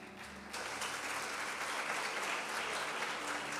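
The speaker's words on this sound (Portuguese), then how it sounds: "dá uma salva de palmas para Deus" A church congregation breaks into applause during a sermon, the clapping starting abruptly and continuing as a dense, steady patter in a large room.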